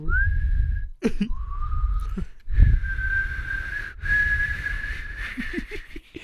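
A person whistles long sustained notes, broken by a cough or breath partway through, close and fairly loud.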